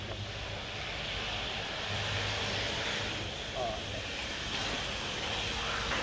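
Airbus A400M Atlas military transport taxiing at the RIAT 2017 airshow, a steady, broad turboprop engine roar that holds constant throughout, with a commentator talking over it.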